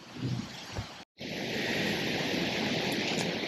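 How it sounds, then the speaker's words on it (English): Strong gusty wind ahead of a storm roars continuously across the microphone outdoors at a house construction site, loud broadband rushing with a brief dropout near the start. "it's pretty windy. It's getting ready to storm"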